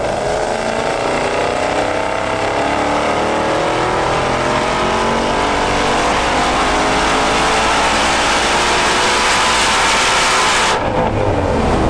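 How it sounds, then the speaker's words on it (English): A Mustang Bullitt engine revs hard and steadily on a dyno for the whole stretch, the pitch climbing as it winds up, loud and close, then cuts off sharply near the end. "The car then goes onto the dyno for a full testing session"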